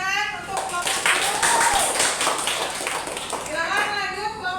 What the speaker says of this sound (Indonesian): Beri tepuk tangan untuk kelompok itu